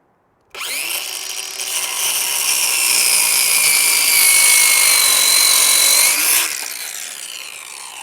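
A Ryobi 6 1/2 inch circular saw spins up and cuts through wood, a loud steady high whine lasting several seconds before winding down, with no talking.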